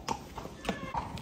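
A horse's hooves clop on the ground in a steady walking rhythm, four close hoofbeats in quick succession, as it is led to the warm-up area at a horse show in rainy, windy weather.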